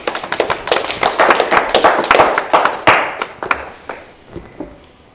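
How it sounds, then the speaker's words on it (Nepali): A small group claps in quick, uneven bursts that grow loud and then trail off into a few scattered claps, heard up close without any voices. "यो कपालको लागि ताली बजाउँ"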